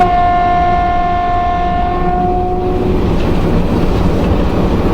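Cab of an EP1 electric locomotive hauling a passenger train, a loud steady rumble of wheels and motors with a sustained tonal whine that fades out partway through, leaving the broad running roar alone.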